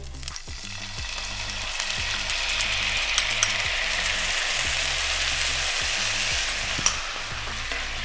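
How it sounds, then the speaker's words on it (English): Teriyaki marinade hits a hot pan with salmon, giving a loud, continuous sizzle and crackle with a few faint scrapes. "Let's go in with our marinade, straight over the top."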